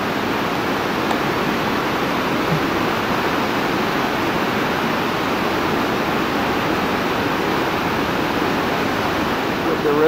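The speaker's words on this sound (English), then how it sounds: "We can see the mist from the fall," Victoria Falls on the Zambezi River, heard as a constant broad roar of falling water, steady and loud with no breaks throughout.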